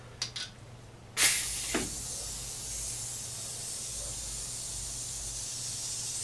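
Compressed air hisses through a Bridgeport power draw bar adapter under test, opening with a few clicks and a sharp burst, then settling into a loud, steady, continuous hiss that carries to the end.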